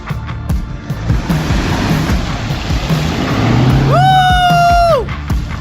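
A Toyota Fortuner 4x4 churns through swamp water with a loud, continuous rushing and sloshing under a low engine rumble, and a rising and falling tonal whine comes in near the end.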